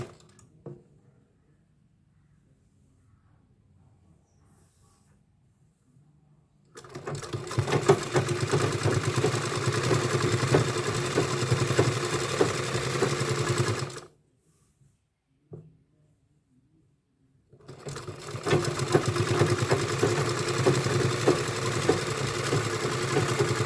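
A sewing machine stitches a frock in two steady runs of several seconds each, a fast even mechanical whir close by, separated by short quiet pauses.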